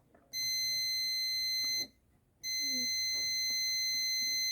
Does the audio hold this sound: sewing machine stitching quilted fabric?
no